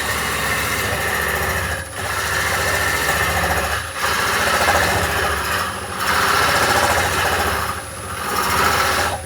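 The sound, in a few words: hollowing tool cutting cherry root ball on lathe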